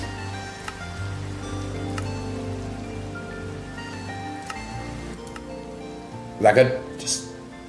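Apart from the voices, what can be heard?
rain falling in the video game Minecraft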